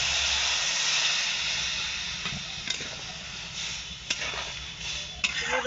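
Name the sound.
vegetables simmering in a pan after water is added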